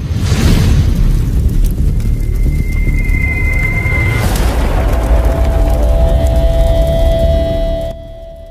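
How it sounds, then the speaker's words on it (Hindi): A desi sky shot firework bursts overhead releasing coloured smoke, a loud rumbling boom with crackling and hissing whistles trailing off over several seconds outdoors. "है ये कलर स्मोक, कैसा धमाका करता है।"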